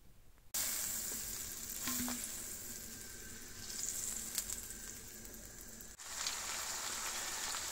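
Late-autumn wild mushrooms fry in butter in a pan, giving a steady, close crackling sizzle with a few brief clicks and stirring noises along the way. No one speaks.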